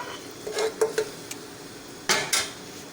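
Beef kofta meatballs placed one by one into a pot of curry masala, giving several separate soft thuds and clinks against the pot over a faint sizzle, with two firmer knocks near the end and no voices.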